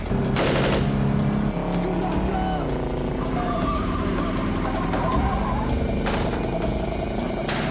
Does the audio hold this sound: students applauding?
no